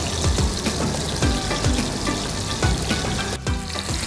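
Meatballs fry in a little oil in a pan, giving a continuous close sizzle dotted with small crackles and pops that runs unbroken for a few seconds, with no voices.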